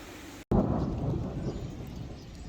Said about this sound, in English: You can still hear it thundering in the distance, lightning.